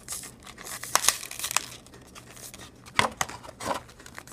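A Hot Wheels RLC card package is opened, heard close up as sharp crinkles and tearing of plastic and card in irregular bursts with quieter pauses between them.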